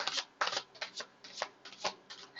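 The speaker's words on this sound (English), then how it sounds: "Do a quick shuffle for the unicorns here" A deck of unicorn-themed oracle cards is riffle-shuffled close up, with quiet, quick papery flutters and soft snaps in an irregular rhythm and no voices.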